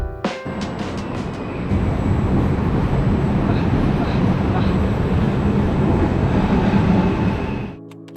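Inside a moving train between Treviso and Verona, Italy, a loud steady rumble of wheels and rushing air fills the carriage, rising after a brief clatter at the start.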